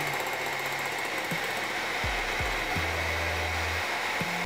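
An electric mixer beats eggs with sugar in a steady, continuous whir, close and moderately loud, with a few low knocks and shifts in pitch as the beaters move through the bowl.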